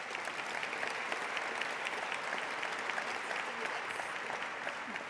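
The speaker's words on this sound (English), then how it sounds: "please give a round of applause to our panel" A crowd at a Broward real estate forum applauds a panel of South Florida brokers, the steady clapping dense and sustained throughout at moderate distance.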